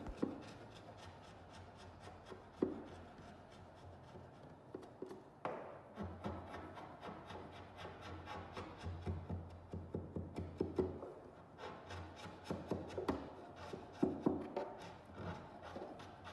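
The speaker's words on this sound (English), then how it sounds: "using a larger sharp chisel, carefully start to scrape the filler back" A large sharp chisel scrapes set filler back on light patterned kitchen laminate, giving a steady run of rasping, rubbing strokes with small taps, fairly close and moderately quiet, with no talk.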